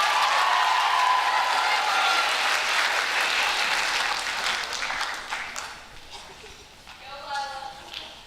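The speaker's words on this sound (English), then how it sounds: "Round of applause for them." A chapel audience claps in a strong round of applause that gradually thins and fades, with a voice starting to speak near the end.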